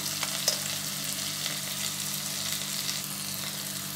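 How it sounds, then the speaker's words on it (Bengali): Ground spices (ginger paste, turmeric, cumin, coriander) frying in oil for a traditional Bengali shol fish curry give a steady, close, moderately loud sizzle with faint scraping touches throughout, no voices. "দিয়ে এবার সব মশলাগুলোকে ভালো করে কষিয়ে নেব"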